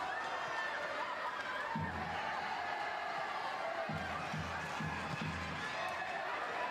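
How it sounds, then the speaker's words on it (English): Crowd at Goodison Park during a women's football match between Everton and London City Lionesses, a steady distant roar of cheering fans with brief low vocal bursts rising in the middle. "You can hear the crowd at Goodison trying to get behind their team"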